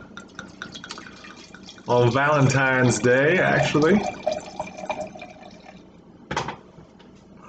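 Red wine, a 2014 Buil & Gine from Toro, Spain, is poured from a freshly opened bottle into a glass as a soft, steady gurgling trickle, mostly under someone talking, with a brief clink near the end.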